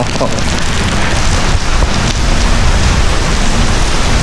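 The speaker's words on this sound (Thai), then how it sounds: "ฝนมันตก" Steady, dense rain pours down continuously, a loud broadband hiss of drops hitting surfaces close by, with no voices.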